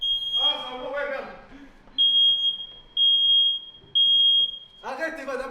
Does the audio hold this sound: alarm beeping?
yes